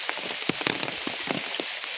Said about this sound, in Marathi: पाऊस का थांबत नाही